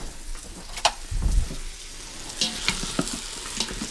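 Beef stew sizzling and crackling in a pot as the bottom scorches, with a brief louder burst of frying near the middle and scattered pops and crackles afterward, close and fairly quiet.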